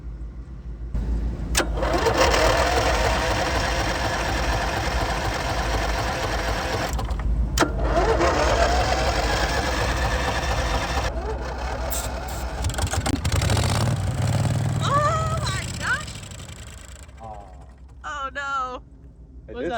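An RV engine with a freshly repaired starter cranks steadily and loudly, catches briefly, then sputters out, with people talking over it near the end.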